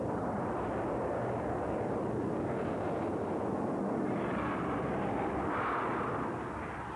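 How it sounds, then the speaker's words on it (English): Dassault Rafale fighter jet powered by two M88 afterburning turbofans, a steady, loud, broad roar that holds throughout with a slight swell near the end. "Powered by two new M88 afterburning turbofans, the Rafale is packed with the latest fighter technology"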